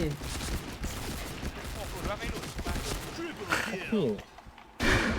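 M4A1 rifle fire in the video game Point Blank comes as rapid, clattering bursts under excited talk, then drops off briefly before a final loud burst.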